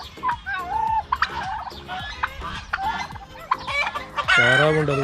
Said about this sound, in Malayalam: നല്ല കോഴികളാണ്.